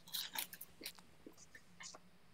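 Close, quiet crunching as someone chews hard breakfast food, a cluster of crisp bites at first, then sparser, softer crunches.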